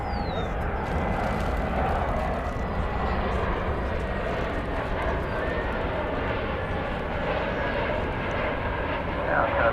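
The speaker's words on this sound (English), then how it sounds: "an Airbus A321 from Denver" An Airbus A321 arriving from Denver and landing at DFW Airport gives off a steady, moderately loud jet rumble throughout, with a faint descending whine at the start and a voice talking over it.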